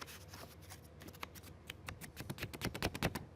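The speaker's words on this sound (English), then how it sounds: "Sounds like a piece of paper." A ceramic coating kit package crinkling like paper, a crisp rustling run of quick crackles up close that grows busier and louder toward the end, with no voices.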